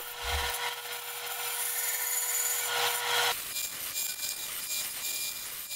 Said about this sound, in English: then I can finish that cut on the bandsaw to cut that recess entirely out